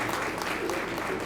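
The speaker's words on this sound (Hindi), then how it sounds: "अभिनंदन कभी तालियां बजाएं" Applause from the audience at a Mewada Kalal family community ceremony, a dense steady clapping that runs through the whole moment with a voice heard faintly beneath it.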